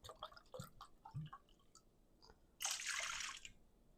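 Two cups of apple cider vinegar poured to make a tangy barbecue sauce, a short splashing gush of liquid after some quiet clinks and taps, fairly faint and close, with no voices.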